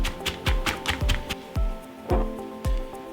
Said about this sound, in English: Now that we minced the garlic, this is how finely minced you want it to look.